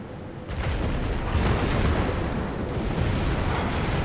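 A cruiser's rear cannons fire in World of Warships, a heavy booming salvo with a sharp onset and a second blast rolling over sustained rumbling, loud and close with no voices.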